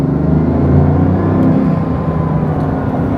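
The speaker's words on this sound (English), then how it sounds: "The turbos and the noise and the gear shifting add a lot of drama" A Bugatti Veyron accelerating hard along a Croatian coast road, a loud steady rumbling engine drone with turbo whir, heard close and continuous with no break for a gear change.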